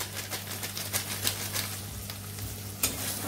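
Masala frying in oil with garam masala powder, a quiet, continuous sizzle with light scraping and clicking as the spice mix is stirred in a pan nearby, and no voices.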